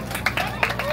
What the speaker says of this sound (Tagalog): Isang malakas na palakpak naman po